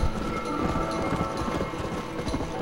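Horse hooves clip-clop at a steady trot in the Red Dead Redemption video game, a continuous, busy rhythm of close, moderately loud hoofbeats mixed with game ambience, with no voices.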